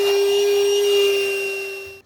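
A Hyundai 12V portable car vacuum whines steadily as it cleans a car seat, holding a constant motor tone close to the listener before cutting off abruptly near the end.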